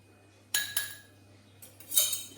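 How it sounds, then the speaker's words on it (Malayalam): A kitchen knife cuts a tomato with a few sharp, crisp taps on the cutting surface: two quick strikes, a pause, then two more, close and fairly quiet against a still background. "തക്കാളി മുറിച്ചു."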